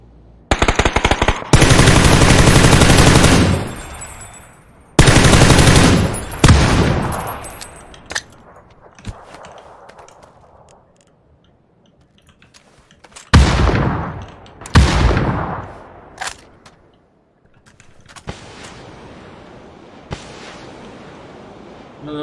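Loud bursts of machine gun fire in a first-person shooter video game, long sustained volleys alternating with short rattles and single shots, separated by quieter gaps with decaying echoes.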